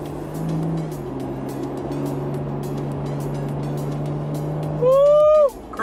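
A 2018 Chevrolet Colorado ZR2 pickup truck cruises with a steady low engine drone and road noise, swelling briefly near the end as it pulls harder, with a voice heard faintly.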